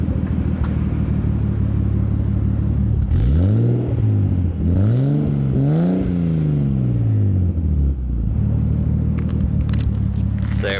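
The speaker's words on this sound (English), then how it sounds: "I'll give you guys a little rev or so here." Nissan Cefiro A31 engine idling, then blipped in a few short revs that rise and fall before settling back to a steady idle, close and fairly restrained in an apartment area.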